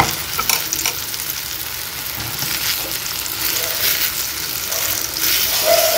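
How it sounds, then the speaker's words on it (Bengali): Green peas and potatoes are stirred in a frying pan over gas, a steady close sizzle with repeated scraping strokes of the spoon and no talk. "এটা একদম ভালো করে শুকিয়ে নিতে হবে নেড়ে নেড়ে"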